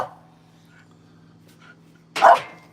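Corgi giving one sharp, close bark after a near-silent stretch with a faint hum and a small whimper-like sound earlier.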